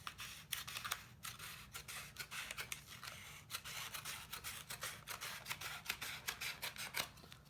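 Blade scraping and rasping through vinyl decal sheet, a North Carolina state shape being cut, with steady close scratchy cutting strokes running throughout and occasional sharper clicks.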